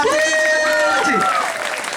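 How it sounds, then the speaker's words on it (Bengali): An audience claps loudly for the Rajshahi Kings BPL cricket team, with dense applause running throughout and a voice speaking over it. "রাজশাহী কিংস এর জন্য জোরে একটা হাততালি হবে"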